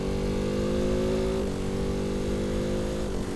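A Ducati Hypermotard 698 Mono single-cylinder engine runs with a gritty, raspy drone, steady and loud up close, with two brief dips in pitch as the rider shifts or eases the throttle.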